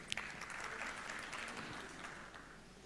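Audience applause welcoming Design VIP's CEO onto the stage at the Istanbul Finance Summit 2018: steady, dense clapping from a large crowd, fairly close and sustained for the whole stretch with no voices over it.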